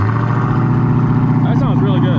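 A Hellcat Redeye widebody with 5-inch exhaust tips and a mid muffler delete idles with a loud, deep, steady burble close by, while a voice speaks briefly over it near the end.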